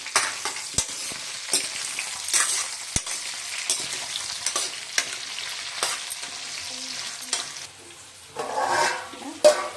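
Sliced onions frying in a pan, a steady sizzle broken by repeated scraping strokes of a spoon stirring, close and fairly loud with no voices.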